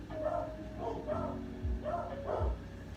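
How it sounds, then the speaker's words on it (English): Dogs indoors give a few muffled barks and yips in quick succession, moderately close but fairly quiet, over a low background hum. "Excuse my dogs."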